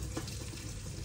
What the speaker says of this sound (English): The potatoes are now done, so I'm going to pour away most of this liquid.